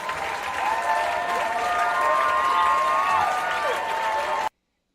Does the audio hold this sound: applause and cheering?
yes